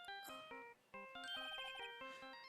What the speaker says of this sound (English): You pressed redial on that there phone, didn't you?